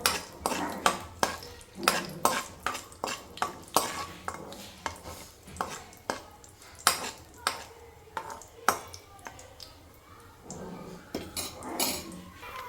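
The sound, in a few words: cashews frying in a pan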